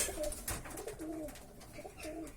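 Soft pigeon cooing inside a pigeon loft, a few low throaty coos repeating close by, with faint rustling in the background.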